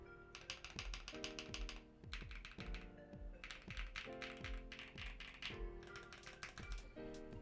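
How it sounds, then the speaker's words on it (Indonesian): Continuous fast typing on a factory-lubed mechanical keyboard with a marbly, rounded key sound, the keystrokes close and crisp in bursts with brief pauses, with no voices. "Nah ya memang keyboard ini nih menarik cuy, karena suaranya tuh agak marbly"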